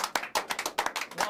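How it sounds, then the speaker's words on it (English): A crowd gives a short round of applause for a young blues-rock band at a live show. The clapping is fairly close and uneven, with a few distinct hand claps standing out over a brief burst. "let's give them a collective round of applause"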